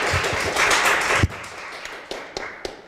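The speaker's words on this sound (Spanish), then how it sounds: "Por favor, un aplauso" Applause and scattered claps from an audience at a members' session on therapeutic guidelines, welcoming a speaker; steady dense clapping fades after about a second into a few isolated claps.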